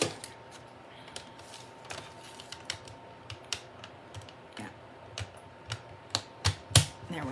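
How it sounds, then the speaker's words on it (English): A paper trimmer cuts sheets of cardstock in half at a craft table, producing a string of close, sharp clicks and scrapes that come faster and louder toward the end. There is no talking. "So I need my paper trimmer."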